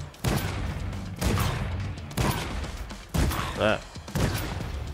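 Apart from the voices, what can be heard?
shotgun fire in Dreams video game Zombie Hunter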